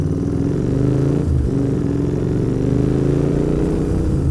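A Royal Enfield Interceptor 650 twin fitted with Hitchcocks header pipes runs close by, a loud, deep, steady exhaust burble with a brief blip in revs partway through, then a constant throb.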